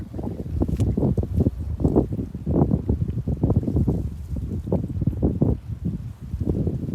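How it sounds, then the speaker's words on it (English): Steady wind buffets the microphone at the Port of Grays Harbor in Aberdeen, Washington, a continuous low rumble that swells and dips across the whole stretch with no voices. "It's a little windy."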